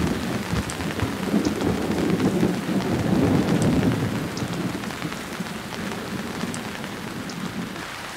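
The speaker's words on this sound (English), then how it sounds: "As the first big storm of the rainy season hits the city" Heavy rain from a rainy-season storm in Lagos pours down steadily in a dense hiss, with deep thunder rumbling underneath throughout.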